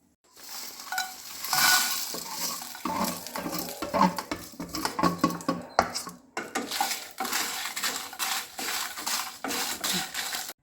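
Whole spices, pepper, bay leaf, cinnamon, cloves, cumin and fenugreek, being dry-roasted for a Mangalorean chicken pulimunchi, with steady scraping, stirring and rattling against a pan throughout, briefly pausing midway.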